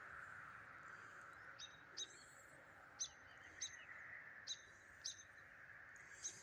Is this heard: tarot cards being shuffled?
no